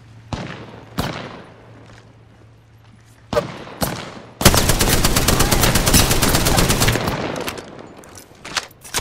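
Sustained automatic gunfire in the video game Apex Legends, with a few separate loud shots and bursts first, then a dense, continuous rapid-fire stretch at close range that dies down into scattered shots.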